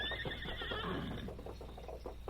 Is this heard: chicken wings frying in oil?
no